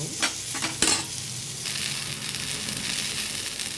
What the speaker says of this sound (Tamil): பெருங்காயம், கொத்தமல்லி, கருவேப்பிலை, புதினா எல்லாத்தையுமே ஒரு வதக்கலாம்